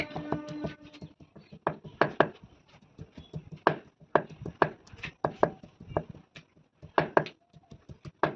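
Fresh ginger ground into a paste by hand in a home Bengali kitchen: a close, steady series of sharp knocking and tapping strikes with brief pauses, and no talking.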